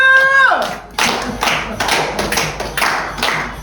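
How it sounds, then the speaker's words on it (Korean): A quick burst of hand clapping starts just after a short shouted voice, about half a dozen loud, close claps in loose rhythm that fade out over a few seconds. "여러분 박수!"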